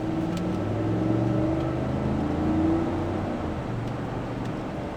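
A 2017 GMC Yukon XL Denali with its 6.2 engine pulls steadily on the highway, a low droning hum with road and wind noise that swells slightly as it accelerates, continuous and fairly close.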